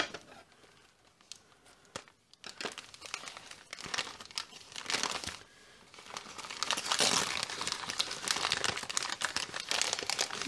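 Paper crinkles and tears as a thoroughly wrapped gift package is unwrapped, soft close-up rustling that grows busier and louder toward the end, with no voices.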